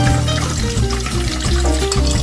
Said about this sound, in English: So we have white vinegar here. I'm just gonna pour it all in.